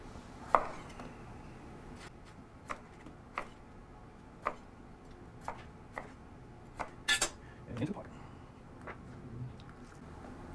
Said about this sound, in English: I'm gonna cut up the potatoes a little bit